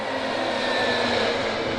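An Antonov 124 cargo plane accelerating down the runway for takeoff gives a loud, steady engine roar with a continuous whining tone. The sound is heard from close by and holds an even level throughout.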